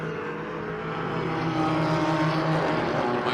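GT4 race cars, including an ST Racing BMW, roar around the Circuit of the Americas at COTA during a GT4 Sprint X race, a steady loud engine drone that swells slightly as they pass.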